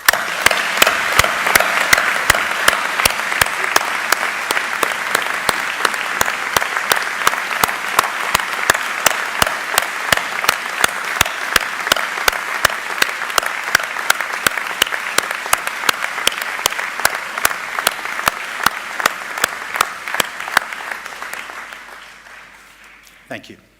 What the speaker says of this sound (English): Please may I ask you to join me with a round of rousing applause